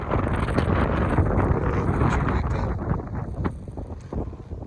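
Strong wind buffets the microphone at an apiary on a winter day, in loud, rumbling gusts that rise and ease, with faint background buzzing of flying bees in between.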